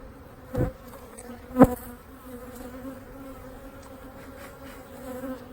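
Honey bees hum steadily around an open single-brood-chamber hive during a June hive split, a soft, continuous outdoor buzz with two brief louder bee passes close by and no talking.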